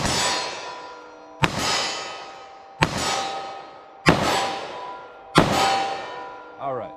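Five sharp, loud gunshots from a snub-nose .357 Magnum revolver loaded with Corbon 140-grain XTP rounds, evenly spaced about 1.3 seconds apart, each followed by a ringing decay. No one speaks.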